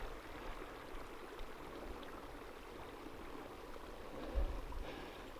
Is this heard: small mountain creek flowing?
yes